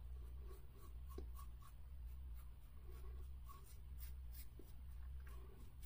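A Flexi fountain pen nib scratches across paper in a steady, faint, close rasp with small ticks as strokes start and stop, over a low background hum.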